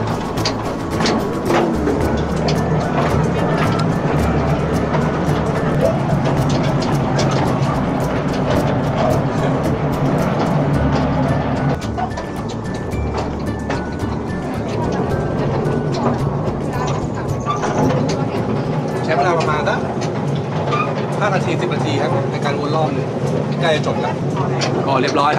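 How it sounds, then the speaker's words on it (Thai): Train ride across the River Kwai bridge (Death Railway) in Thailand, with steady rumbling wheels and carriage noise running continuously throughout, loud and close, with passengers' voices mixed in. "ไฮไลท์นะครับของการนั่งรถไฟก็คือการข้ามสะพานแม่น้ำแควเลย"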